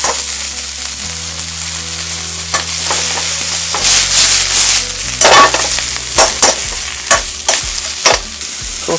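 Scallion whites, garlic, ginger and chili stir-fry in a lightly oiled pan for Mongolian beef, with loud close sizzling and sharp scrapes of a spatula that grow more frequent as the aromatics toss.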